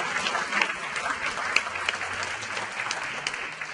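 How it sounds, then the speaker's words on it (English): Gala audience applauding an honoree, steady dense clapping across the room at moderate level, continuous throughout without pause. "You can clap. She deserves it."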